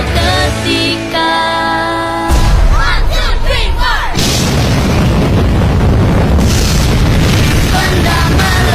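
A bomb explosion lands with a heavy boom and a loud, rumbling roar that swells and hangs on, set under music and crowd cries in a dramatized scene of the Japanese occupation of Indonesia.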